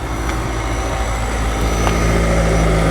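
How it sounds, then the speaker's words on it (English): A hybrid 2026 Jeep Cherokee Overland engine starts and settles into a steady, loud hum close by, with a low droning rumble running throughout and no talking. "the engine starts right up, of course."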